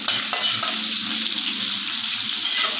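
Garlic cloves fry in a pan with a steady, loud, close sizzle, broken by light stirring scrapes throughout.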